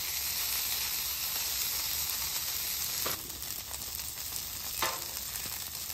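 Hash brown patties frying on a Blackstone griddle, a steady broad sizzle close up with a couple of brief scraping or spatula sounds near the middle, continuous and fairly loud.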